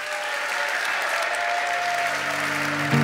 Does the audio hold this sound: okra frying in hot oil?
no